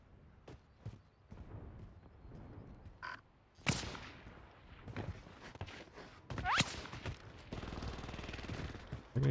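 Gunfire in a video game: sharp shots and short bursts crack out at intervals among footsteps and movement sounds, moderately loud with no talking.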